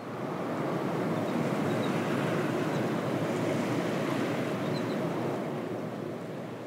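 Ocean waves and surf make a steady, dense wash of noise, unbroken and fairly loud, with no voices over it.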